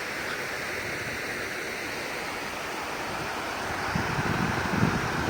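A swollen river pours over a dam in a continuous, dense roar of rushing water with wind noise on the microphone, surging slightly louder toward the end.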